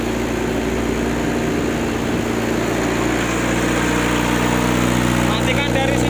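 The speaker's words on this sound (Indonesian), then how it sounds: "Saya matikan dulu mesinnya." A BA05 brick press machine runs with a loud, continuous engine hum and steady low drone, close and unchanging, with no clear talk over it.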